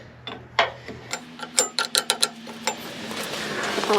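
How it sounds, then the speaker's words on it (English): An 11/16 Snap-on wrench breaking a hydraulic hose fitting loose at the bottom of a cylinder, heard as a string of sharp metallic clicks and ticks over a low steady hum, with irregular spacing and no talk. "With our trusty 11/16 snap-on wrench, we're going to come down here, break this fitting loose at the bottom of the cylinder"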